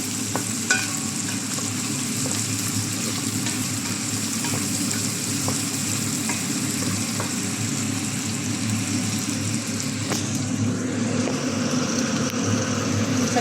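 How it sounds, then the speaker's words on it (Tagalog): Onion and garlic sautéing in a pan alongside chicken, a steady loud sizzle with stirring scrapes throughout, no talking. "Gisa-gisa lang po natin."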